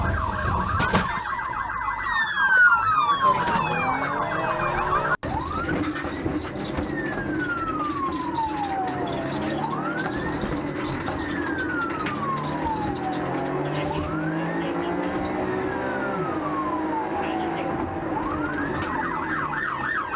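Police car sirens wail during a multi-state pursuit after troopers tried a traffic stop, with several overlapping sweeping tones rising and falling steadily and loudly over continuous road noise.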